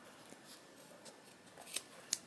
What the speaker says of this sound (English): I'm going to tuck this under and cut it.